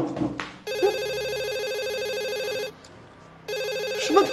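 A telephone bell rings in two steady bursts separated by a short pause, clear and fairly loud in a quiet home.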